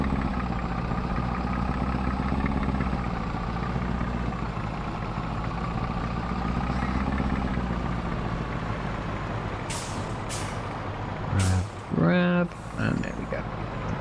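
A truck engine idles in Farming Simulator 22 with a steady low drone throughout, then a few sharp air-brake hisses burst out near the end.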